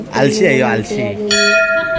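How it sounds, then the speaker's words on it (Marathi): A temple bell rings once with a bright, sustained metallic tone that hangs on after a voice speaks, struck close by and fairly loud. "तेवढ्यात मी आलो ना घंटी वाजवली"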